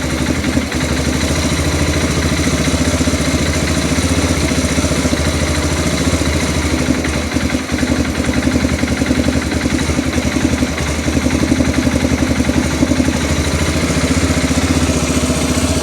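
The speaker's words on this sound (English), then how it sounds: "New carburetor working like a charm." An Arctic Cat engine fitted with a new carburetor idles steadily and loudly up close, a continuous even chug with a light mechanical clatter.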